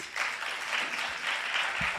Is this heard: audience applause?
yes